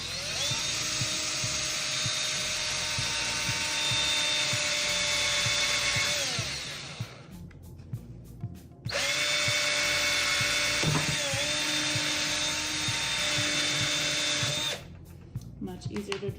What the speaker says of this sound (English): So I'm just gonna hold this side down and drill through on this side